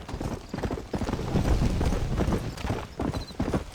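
Horse hooves gallop in Red Dead Redemption, a rapid steady clip-clop at close range, loud and continuous, with a brief whinny.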